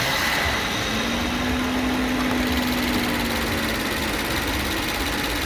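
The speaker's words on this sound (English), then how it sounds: "And that's with a huge V12." A Rolls-Royce V12 runs smoothly at a steady, low hum, heard from inside the car as a faint, even drone with no talk.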